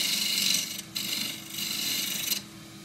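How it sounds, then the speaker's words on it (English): A 3/8 spindle gouge trues up a cross-grain forest sheoak box blank spinning on a lathe, giving a close, raspy scraping hiss in two sustained cuts separated by brief pauses, with no talk. "Just true that up, 3/8 spindle gouge."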